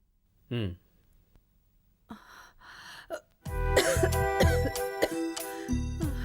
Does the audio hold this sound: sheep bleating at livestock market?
no